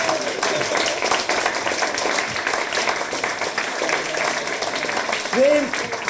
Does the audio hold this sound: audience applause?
yes